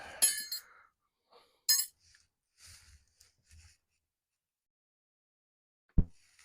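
Vintage tarnished metal spoons clink in a few sharp, bright taps spread across a quiet room, followed by a single soft knock near the end.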